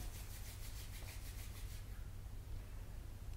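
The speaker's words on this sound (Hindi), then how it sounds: "पुनः हथेलियों को रब करते हुए आँखों के ऊपर रखें" Palms rubbing together briskly during a yoga breathing practice, a steady dry friction hiss with faint rhythmic strokes that fades after about two seconds into a quiet room.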